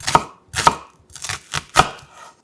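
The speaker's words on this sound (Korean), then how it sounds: "칼집을 여러 번 넣고 작게 썰어 팬에 바로 담아주세요" A knife chops a quarter of a sweet medium onion on a cutting board: about four crisp, evenly spaced strikes, close and clear, with no talking.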